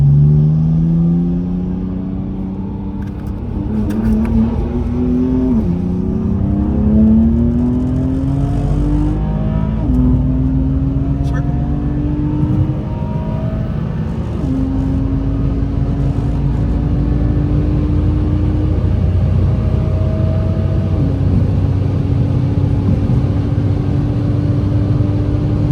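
BMW M4 engine pulling hard at high speed from the driver's seat, loud rising revs broken by several quick gear shifts, then a sustained high-pitched drone as speed holds.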